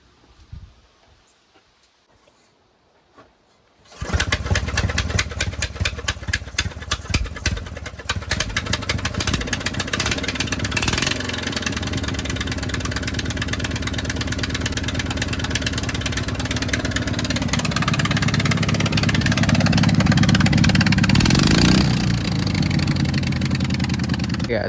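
An engine on a stand, fuel pump primed, silent at first, then catching and starting abruptly and running steadily and loudly for about twenty seconds, rising slightly in revs toward the end.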